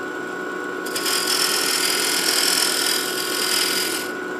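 A round skew negative rake scraper cuts wood spinning on a lathe, a steady close hissing scrape that starts after a second and holds for about three seconds before easing off.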